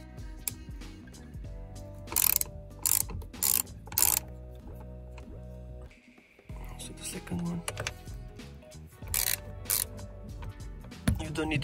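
A T30 driver loosens the airbag screws on an Audi A4 B8 steering wheel. Close, clicky ratcheting bursts come in short repeated runs with a brief pause midway.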